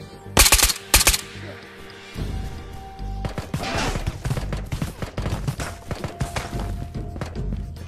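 SKS rifle fire in the VR shooter Ghosts of Tabor: a quick burst of loud, close gunshots, a pause, then a longer run of rapid shots mixed with thuds and clattering impacts.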